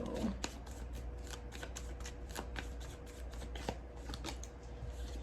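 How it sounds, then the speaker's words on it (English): Quiet, close riffling of tarot cards being shuffled, repeated crisp flutters over a faint background hum. "let me shuffle and get you guys a few tarot cards"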